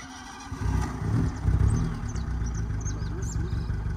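The engine of a Fiat Uno idles roughly and unevenly, a close, low sputtering rumble that swells and wavers as if about to stall, with faint higher chirps over it.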